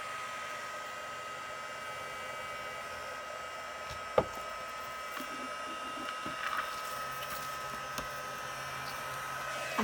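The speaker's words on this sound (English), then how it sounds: "So I'm going to turn on my heat gun, and let that go for about 10 or 15 seconds." A heat gun runs for embossing with a steady, quiet whirring blow, broken by a sharp click near the middle and a few faint taps.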